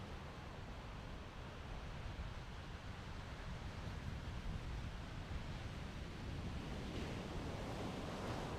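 Surf rolling in steadily at an island surf break during a national surf championship in Little Andaman, a continuous broad wash of breaking waves with light wind, heard alone without talk.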